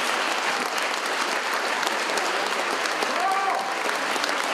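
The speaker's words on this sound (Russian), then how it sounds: "зал буквально рассыпается в аплодисментах" A concert-hall audience at the Crimean Tatar theatre breaks into sustained, dense applause for a soloist, a steady wash of many clapping hands filling the whole stretch at even loudness.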